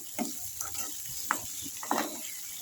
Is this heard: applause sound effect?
no